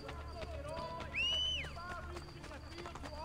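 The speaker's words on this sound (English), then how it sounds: "Alright, this horse is just running everybody over." A horse gallops through a crowd in Assassin's Creed Brotherhood, rapid rhythmic hoofbeats mixed with game noise and a brief rising cry midway, while a player talks over it.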